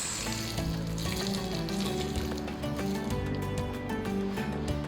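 Hot oil tempering with red chili powder is poured over layered chicken biryani rice, giving a loud, continuous crackling sizzle with fine popping that stays close and steady for about five seconds, with no voices.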